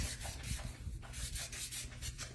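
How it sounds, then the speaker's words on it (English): Sandpaper rubs back and forth along the edge of a small wooden Christmas ornament ring, a soft, rhythmic scratchy rasp in quick repeated strokes, close and quiet. "Now you could use grittier sandpaper."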